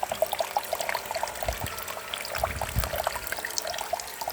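Water pouring and trickling steadily in a water vortex system, a continuous close splashing flow with small bubbling droplets and no talking.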